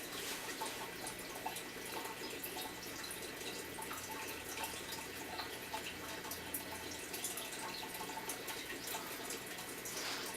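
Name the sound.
bubbling water in an aquarium tank holding Jack Dempsey fish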